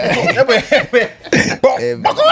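A man coughs close up in a quick run of several harsh, separate bursts with short gaps between them.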